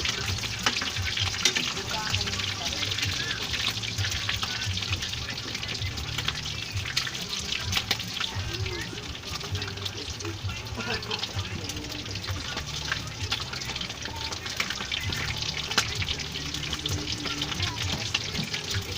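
Lechon paksiw frying in a pan while being turned over, a steady close sizzle and bubbling with occasional scraping, and voices talking quietly underneath.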